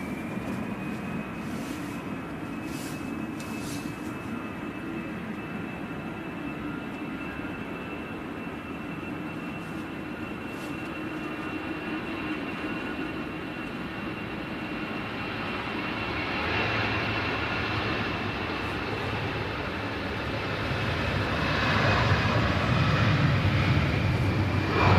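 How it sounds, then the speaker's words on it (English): A Ryanair Boeing 737-800 jet arriving at a gusty Manchester Airport, its engine roar heard at a distance, steady and low at first, then growing louder toward the end. "we got a Ryanair 737-800 in next"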